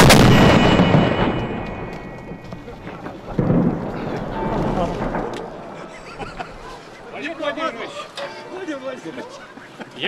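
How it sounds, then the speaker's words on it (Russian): Two cannons fire the noon shot at the Peter and Paul Fortress in Saint Petersburg, a loud booming blast at the start that rumbles and echoes away, followed by crowd noise and voices. "Прекрасный полуденный выстрел в честь сегодняшнего праздника."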